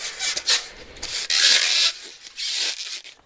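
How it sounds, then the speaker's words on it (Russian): Close, squeaky rubbing and scraping of styrofoam packaging in several rough bursts, with short pauses between strokes. "кто любит звук пенопласта, наслаждайтесь"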